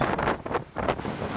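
Strong gusts buffet the microphone on a rugged ria coastline in Chiba, low rumbling wind bursts swelling and easing in waves, with surf faintly beneath.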